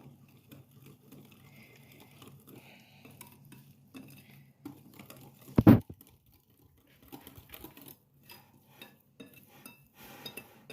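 A spoon stirs and scrapes cake batter of flour and baking powder inside a bowl with soft, irregular patters, interrupted by one sharp clink of utensil against the dish.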